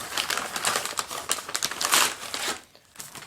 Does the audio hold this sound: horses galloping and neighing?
no